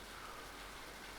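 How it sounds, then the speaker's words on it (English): Rain falls steadily as an even, faint hiss of drops on a surface, with no voices over it. "This rain just keeps on falling, doesn't it?"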